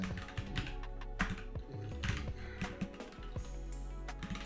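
Rapid clicking keystrokes on a new computer keyboard, dense and close, an uneven but continuous typing rhythm with no talk.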